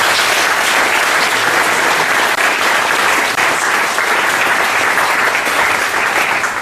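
An audience at a diploma ceremony at a theological and missionary institute in Libreville applauds, dense sustained clapping filling the room at a steady level from start to finish.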